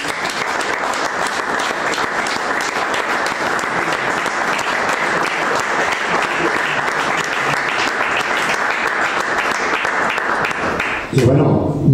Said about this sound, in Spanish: ha habido un aplauso, pero pido uno más fuerte para el pianista